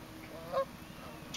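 A single short goose honk near the water, fairly close, rises briefly out of a quiet outdoor background with faint steady hiss and no talking.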